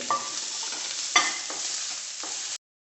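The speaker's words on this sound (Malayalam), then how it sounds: "കറിവേപ്പില, സവാള ഒന്ന് ചെറുതായിട്ട് മൂത്ത് വരട്ടെ" Curry leaves and onion fry in hot oil with a bright continuous sizzle and a few stirring scrapes, close and unaccompanied by speech, cutting off abruptly at the end.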